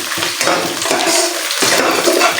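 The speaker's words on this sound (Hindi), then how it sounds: "और प्याज को भी हमें बहुत अच्छे से फ्राई करना है।" Onions frying in a pan over a low flame while making chicken tikka pasta, a steady close sizzle with occasional stirring scrapes, no voices.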